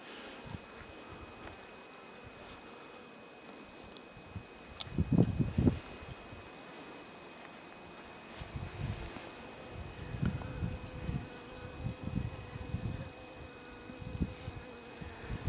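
Honey bees buzz around their hives and spring feeders on their first flight after a warm winter, a faint continuous hum broken by a few louder bursts of rustling and wind.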